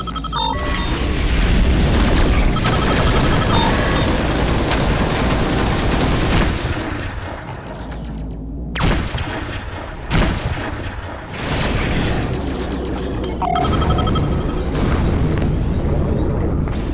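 Incoming missile explosions in the space combat game Rebel Galaxy Outlaw make a continuous dense roar of blasts and booms, broken by a few sharp impacts and short lulls.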